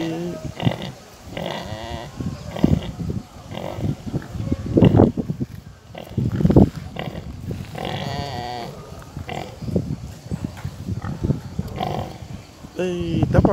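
A litter of piglets nurses and roots around a sow lying down by a garbage pile, giving repeated close grunts and squeals while a person talks over them.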